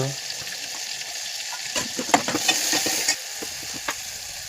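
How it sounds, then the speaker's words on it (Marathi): Cabbage frying in hot oil in a pan with turmeric and asafoetida, giving a steady sizzle broken by scraping and clinking stirring strokes that cluster in the middle. "कोबीमध्ये मी सगळे मसाले शिजवणार हळद हिंग"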